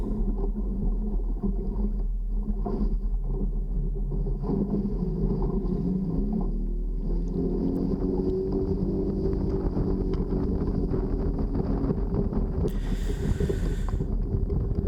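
Fishing boat motoring back upwind on Lake St. Clair, a steady engine rumble with wind buffeting the microphone and water noise throughout, plus a brief hissing burst near the end.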